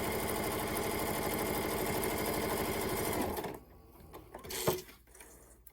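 A sewing machine stitches batting onto a fabric phone case with a fast, even mechanical chatter for about three seconds, then stops, leaving a few faint handling clicks.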